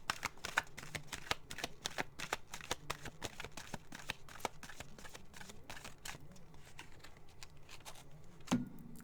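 A tarot card deck being shuffled on a table, a quick run of soft riffling clicks and flutters lasting several seconds, close and fairly quiet, with a louder bump near the end and no talking.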